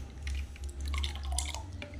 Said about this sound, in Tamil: ஊற்றிடலாம், கிளாஸ் ஊற்றிடலாம்.